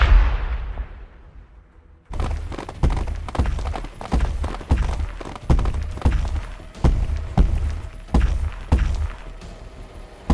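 Tyranid Exocrine bio-artillery in the Warhammer 40,000: Battlesector game batters the scene after a fading rumble, with a steady run of heavy, thudding impacts about every half second, loud and close, with no voices.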